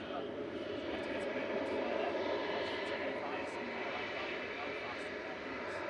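An airliner touches down on landing, its engine and rushing air noise making a steady broad rumble at a distance, with voices talking over it throughout.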